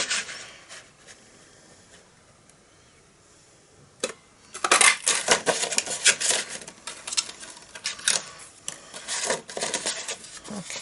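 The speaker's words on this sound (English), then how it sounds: "we're just going to line it up as best as possible and punch, and we want 3 hearts" Crisp metallic clunks and rattles from a handheld heart-shaped paper punch cutting hearts from cardstock, close and fairly loud, in a busy cluster of irregular clicks after a quiet lead-in.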